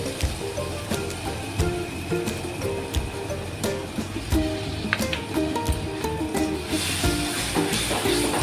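Liquid is poured into a hot pan for a spicy egg curry, giving a continuous bright sizzling hiss. Scattered small clicks and pops run through it, and the hiss swells brighter near the end.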